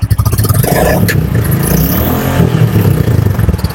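A Royal Enfield Bullet Classic motorcycle, fitted with leg and sump guards, idles close and loud with a deep rhythmic thumping exhaust, its engine rising briefly near the start and again later.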